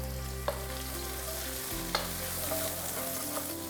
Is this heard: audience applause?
no